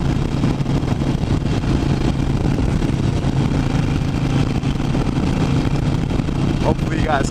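A Harley-Davidson Iron 883 motorcycle drones loudly and steadily while being ridden, its engine rumble mixed with heavy wind noise across the whole stretch.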